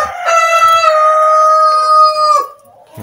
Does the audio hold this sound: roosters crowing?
yes